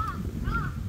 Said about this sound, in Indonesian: Oh, burung gagak.